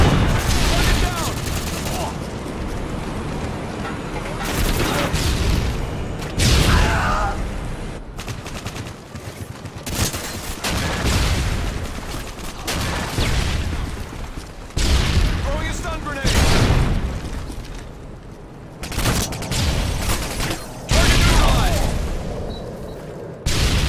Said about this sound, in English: Friendly Predator missile incoming.